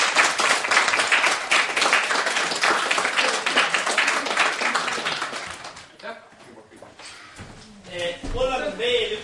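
An audience at a youth political debate applauds loudly with dense, steady clapping for several seconds. The clapping thins out and fades near the end as a voice begins speaking.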